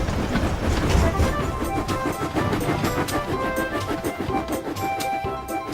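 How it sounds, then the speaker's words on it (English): A cartoon steam engine train puffs away from a station, a steady rhythmic chuffing and clickety-clack of wheels rolling along the track, fairly loud and continuous, with no talking. "Then the gate opened, and Thomas puffed quickly away."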